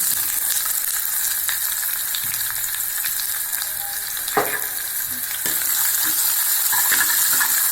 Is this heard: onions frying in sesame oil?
yes